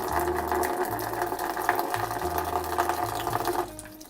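Coolant drains from a watercooled PC loop through an opened drain valve, a steady rushing, spraying water flow with a pump-like hum, continuous and close, tapering off near the end.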